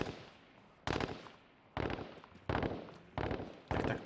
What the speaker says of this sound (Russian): Я слышу стрельбу